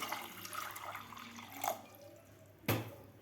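Water trickles and drips into a cooker of chickpeas for palak chana masala, with a couple of sharper splashes standing out, close and fairly quiet.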